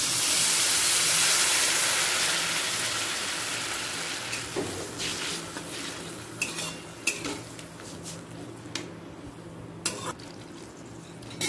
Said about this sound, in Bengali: জলটা দিয়ে আরও 5 মিনিট ফুটতে দেব